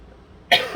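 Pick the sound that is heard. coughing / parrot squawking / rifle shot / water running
coughing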